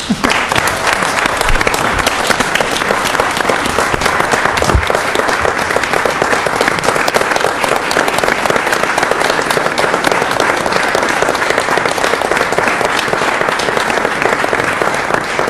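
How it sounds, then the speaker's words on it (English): An audience at a formal meeting applauds, with dense, steady clapping filling the room at full volume and continuing unbroken, with no voices over it. "let's give them another round of applause."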